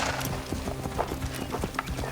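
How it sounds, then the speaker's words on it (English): Horse hooves clip-clopping in Assassin's Creed, a steady run of close, crisp hoofbeats at an even trotting rhythm over a low droning game soundtrack. "The horse is impressive."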